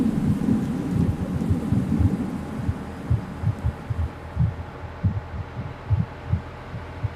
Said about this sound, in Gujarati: વરસાદ ચાલુ થઈ ગયો તમે જોઈ શકો ગાઈસ।